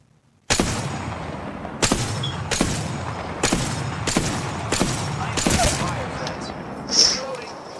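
Gunfire in the video game Apex Legends: about six sharp, loud shots spaced roughly a second apart, each with a short ringing tail, followed by a brief higher electronic chirp near the end.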